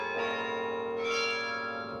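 Carillon bells ring inside an acoustically designed tower bell chamber, a dense sustained wash of overlapping tones with a fresh cluster struck about halfway through, loud and alone.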